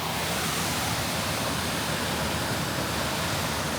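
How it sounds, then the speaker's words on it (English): A waterfall along a creek trail in Citico Creek rushes in a broad, constant roar, close and full, with no variation or voices over it. "I just keep coming across these crazy waterfalls"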